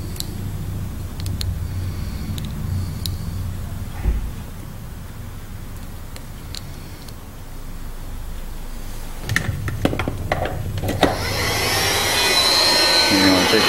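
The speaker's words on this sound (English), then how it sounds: "You're going to want to take your heat gun." A heat gun blowing on shrink wrap during soldering work, a steady close whooshing roar of hot air that swells louder toward the end, with a voice speaking over it.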